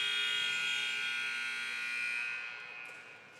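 A sustained electronic buzzer sounds at a youth volleyball league match, a steady tone with harmonics holding for about two seconds before tapering off in a large indoor hall.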